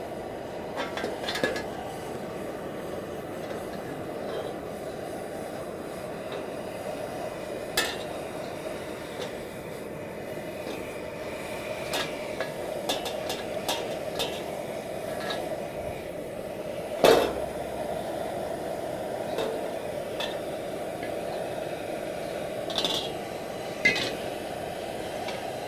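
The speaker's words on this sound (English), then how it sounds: "that's where we have the channel locks to help us out spinning this wok around" A carbon-steel wok being burned and seasoned over a flame while channel locks spin it around, giving steady roaring burner noise with scattered metallic clanks and scrapes, including one louder knock partway through.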